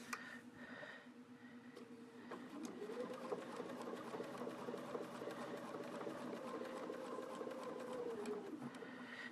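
A sewing machine stitches binding onto a quilt with a quarter-inch seam, its steady motor hum and rapid needle patter running continuously for several seconds after a brief start, close and clear with no talk.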